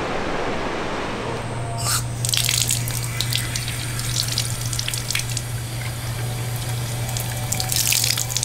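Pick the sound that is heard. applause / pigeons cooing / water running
water running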